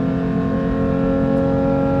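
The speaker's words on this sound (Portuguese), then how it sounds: "Vou falar do escapamento único" Porsche 911 GT3 with a single exhaust revving steadily and loudly up close, a dense sustained engine drone with strong harmonic tones and no pauses.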